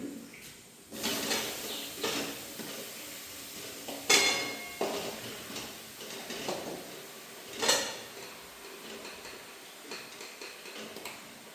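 Taro greens going into a wok with clattering metal cookware, several sharp knocks and scrapes standing out over a steady background hiss, close and moderately loud, with no talking.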